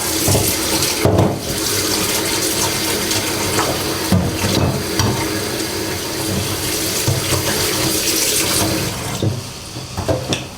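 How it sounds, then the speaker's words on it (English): Steady running tap water splashes over raw shrimp in a sink, a continuous close rush with brief bursts of louder splashing. "Wash away the salt and baking soda."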